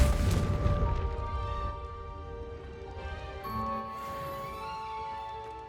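A Confringo blasting spell explodes in Hogwarts Legacy with a loud, booming burst. A game score with sustained tones plays over the blast and continues after it.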